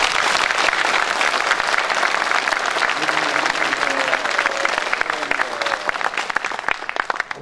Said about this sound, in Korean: 옆에 계신 내빈 분들과 인사하시면서 서로 박수로 환영해 주시면 감사하겠습니다